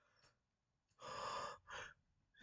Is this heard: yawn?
yes